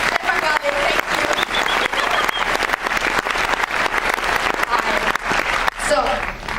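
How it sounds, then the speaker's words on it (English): A film festival audience at a Berlinale question-and-answer session applauds steadily, a dense, continuous wash of clapping up close with faint voices underneath. "applause for him because he just was very spontaneous."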